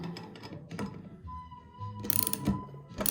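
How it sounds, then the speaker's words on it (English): Ratchet wrenches being tidied up in a workshop during KTM 450 motorcycle swing arm bearing work, producing scattered metallic clinks, rattles and clicky ratcheting, with a couple of brighter clanks near the end. "Tidying up the ratchets."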